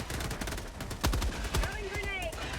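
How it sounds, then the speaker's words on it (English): Heavy machine gun firing in Helldivers 2, a close burst of sharp shots clustered around the middle with rapid repeated cracks, heard over busy game noise and chatter. "So this is just like a big heavy machine gun that I picked up"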